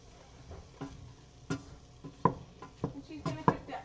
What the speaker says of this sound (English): Break up some of those bigger chunks of onion and start that stirring.